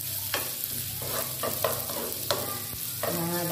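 Shallots stir-fry in a little oil for tumis kangkung, a steady close sizzle broken by spatula scrapes and stirring clatters every half second or so.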